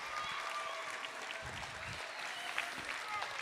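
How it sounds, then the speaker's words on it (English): Sustained applause from an audience at an elementary school end-of-year awards ceremony, even and continuous from a fairly distant crowd, with faint voices mixed underneath. "Keep the applause going."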